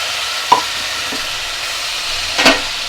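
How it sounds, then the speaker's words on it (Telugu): Chopped tomato pieces drop into a frying pan and a ladle stirs them through a quiet, steady sizzle, with two short scraping clatters. "ఆ తర్వాత ఒకసారి గరిటెతో కలుపుకొని మనం చిన్నగా తరిగి పెట్టుకున్న టొమాటో ముక్కల్ని కూడా వేసేస్తున్నాను."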